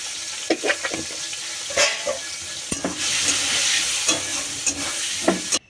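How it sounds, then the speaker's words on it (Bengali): Bitter gourd slices coated in turmeric fry and sizzle in oil in a wok, a steady crackle broken by several stirring scrapes and clanks, close and fairly loud with no talking. "এবার ডালটা করব বলে ডালের উচ্ছেটা ভেজে নিচ্ছি।"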